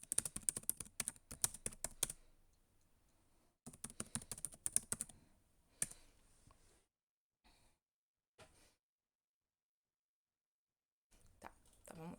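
Rapid bursts of clicking keystrokes on a computer keyboard come in clusters separated by quiet gaps, close and crisp, with a sigh and breathing between them.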